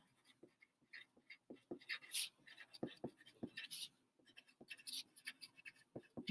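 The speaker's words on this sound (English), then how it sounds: "So I'm gonna write" Pen or pencil writing notes by hand for a math lesson, a steady run of small scratching strokes and taps on paper, close and quiet, with no talk over it.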